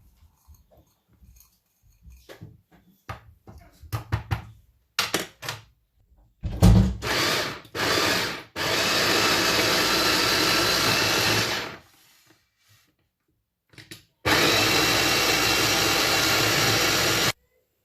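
A kitchen mixer grinder blends kiwi into a puree, starting with short, sharp whirring bursts, then running in a long, loud, steady whir, pausing, and starting again for another sustained stretch.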